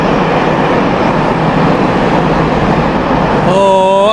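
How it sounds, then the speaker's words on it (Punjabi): A freight train rolls past near the Serbia–Montenegro border in a steady, loud, broadband rumble that fills the whole stretch. A drawn-out tonal squeal or horn-like note rises at the end. "ਸੋਹਣੀਆਂ ਵਾਦੀਆਂ ਦੇ ਵਿੱਚੋਂ ਦੀ ਖੂਬਸੂਰਤ ਮਾਲ ਬਰਦਾਰ ਟ੍ਰੇਨ ਜਿਹੜੀ ਨਾ ਉਹ ਲੰਘ ਕੇ ਜਾਣ ਰਹੀ"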